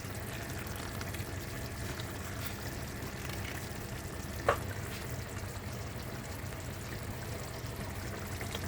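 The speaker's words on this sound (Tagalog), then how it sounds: "lagyan na natin siya ng tomato sauce" Kapampangan caldereta simmers in the pot as tomato sauce is added, a quiet, even bubbling and hissing with one brief click midway.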